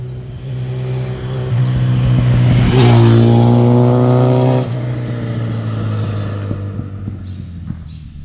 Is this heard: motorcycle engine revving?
yes